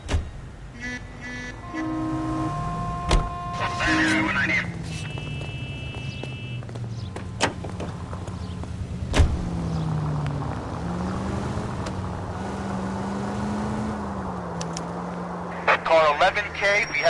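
A commandeered car drives in the video game L.A. Noire. A steady engine hum rises and falls with gear changes under in-game voices, with occasional clicks and a short burst of sound near the end.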